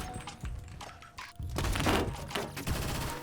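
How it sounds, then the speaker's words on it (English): Rapid X95R carbine gunfire in the online shooter Phantom Forces, shots punching through a wall: dense, loud bursts of automatic fire that build and continue steadily through the whole stretch, with no talk. "he just wallbanged me with the X95R"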